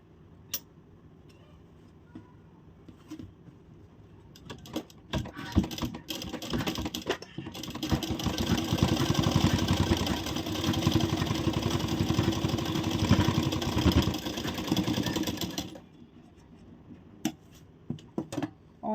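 A sewing machine runs a final fitting seam along the marked line of a designer blouse, its steady mechanical stitching building from light clicks into a sustained, fairly close whir before stopping, with no talk.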